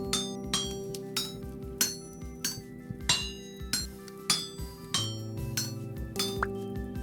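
Repeated sharp metallic clinks of a copper chisel striking in the Vintage Story video game, roughly a dozen evenly spaced ringing hits over a steady background music drone, loud and close.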